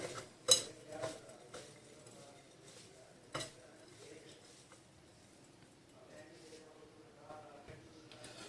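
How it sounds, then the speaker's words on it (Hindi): Spices being mixed into chicken drumsticks in a bowl: soft, faint stirring and scraping with a few light clinks of utensil against the bowl, sharpest near the start, in a quiet kitchen. "अपने जितने स्पाइसेस थे वो ऐड कर देंगे चिकन में, मिक्स कर लेंगे।"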